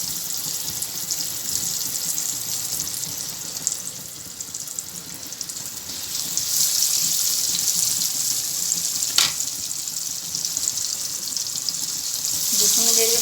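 Shami kababs fry in hot oil with a steady, fairly loud sizzle that runs throughout, swelling slightly midway, with one brief click near the end and no voices.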